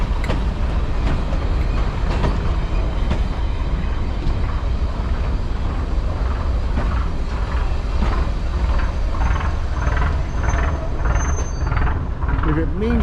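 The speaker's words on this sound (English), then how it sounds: "There it appears there's another DMU." A diesel multiple unit train on the Severn Valley Railway rolls past close by, its engine roar steady under rhythmic wheel clicks over rail joints.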